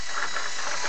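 Lego inline four-cylinder engine model running, giving a short burst of rapid, even mechanical clicking and whirring gear chatter with a hissy edge.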